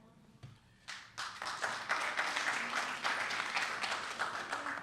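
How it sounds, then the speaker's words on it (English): A room full of people at a press club luncheon breaks into applause, starting with a few scattered claps before swelling into steady, moderately distant clapping. "if you do hear applause in the room, it is not from the working press"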